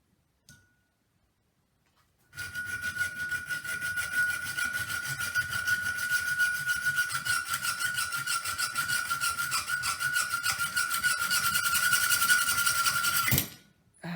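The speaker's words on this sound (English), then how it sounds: "I got one in a vise. What I'm going to do is I'm going to cut this end off." A hacksaw cuts the head end off a nail clamped in a vise for a homemade wooden mace, a steady, fast back-and-forth rasp that runs close and continuous for about eleven seconds and then stops abruptly.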